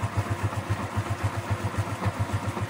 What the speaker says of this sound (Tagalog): So mapapansin nyo rin yung makina, humihina yung tunog.